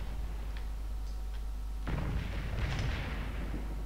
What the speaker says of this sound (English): Yeah, some cannons.